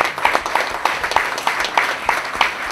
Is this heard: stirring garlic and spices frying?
no